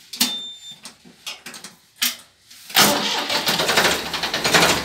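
A Ford 3600 tractor is self-started: a few short mechanical clicks and brief cranking, then at about the three-second mark the engine catches with a loud, close, broadband roar that settles into a steady, pulsing run.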